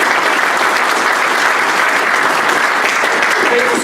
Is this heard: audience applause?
yes